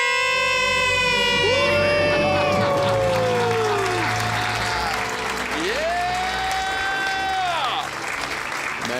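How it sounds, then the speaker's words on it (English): A studio audience on a radio talk show bursts into cheering, whoops and sustained applause, loud and close. Sweeping electronic sound effects and music play on top, and voices shout throughout. "Let's hear a debt-free scream."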